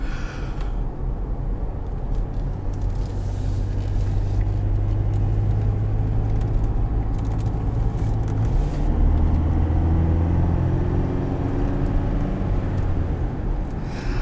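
Steady, loud cabin drone of a 2018 GMC Canyon Denali diesel pickup on the road, with a low engine rumble that shifts pitch partway through as the truck changes gear, and no talk over it.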